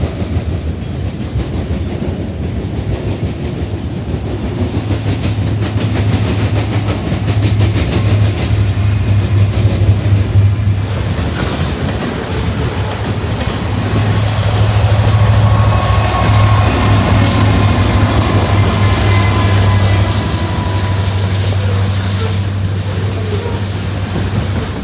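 Canadian National freight train with SD70M-2 locomotives mid-consist rolling steadily past, a loud sustained low diesel drone over continuous wheel and rail rumble with clickety-clack of old flat cars and auto racks, no talk.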